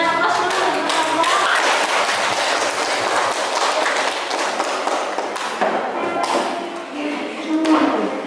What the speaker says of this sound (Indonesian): Berikan aplaus dulu untuk kelompok.